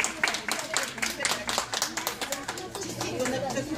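Children and adults clap at a kindergarten graduation event in Stara Zagora, steady rapid hand claps close by with some chatter mixed in.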